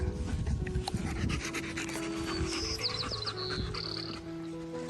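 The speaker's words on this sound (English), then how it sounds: "And the dogs check in" Several trained dogs pant rapidly and rhythmically close by during a focus and socialization session, with rustling, faint whines and squeaky tones in the background.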